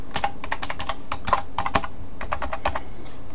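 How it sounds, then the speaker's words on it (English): Rapid clicking of typing on a computer keyboard, clear and close, with uneven bursts of keystrokes and no talking. "I'm going to type in just anything"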